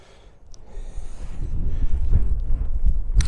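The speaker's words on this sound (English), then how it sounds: "that wind has got up now as well and it's bitterly cold" Bitterly cold wind gusting outdoors on a misty hillside, a low rumbling buffet that builds steadily from faint to strong and steady against the microphone, with no voices.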